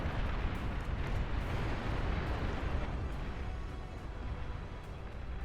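A tactical missile launcher fires from a mountainside in the strategy game Beyond All Reason, a loud sustained rumbling roar with explosive bursts that fills the whole stretch without letup.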